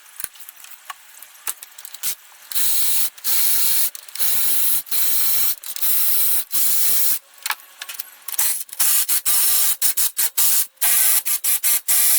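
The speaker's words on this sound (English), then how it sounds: "Take the head bolts out." A ratchet works loose cylinder head bolts on a Jeep 4.0 engine, sounding as rapid, crisp clicking bursts in repeated strokes up close, separated by short pauses and sharp metallic ticks.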